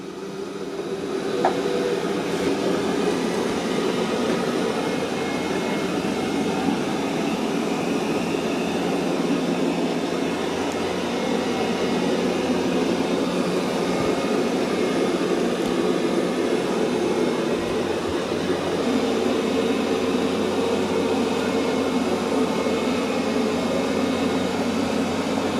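A Yeedi M12 Pro+ or Roborock Qrevo MaxV self-emptying robot vacuum-mop works over a muddy floor, giving a steady, loud, unbroken motor whir and rumble that holds level from start to finish with no talking.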